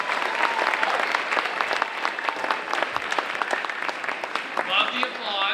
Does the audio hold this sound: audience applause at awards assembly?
yes